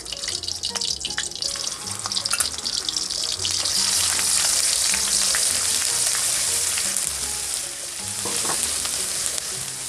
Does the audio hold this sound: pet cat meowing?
no